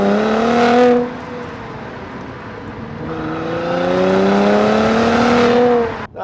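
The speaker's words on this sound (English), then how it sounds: "I do want to try and get the engine noise across to you" A 2016 Mercedes-AMG C43 4MATIC 3.0 engine revs and accelerates, its tone rising through the gears, then eases off before surging again, loud and close.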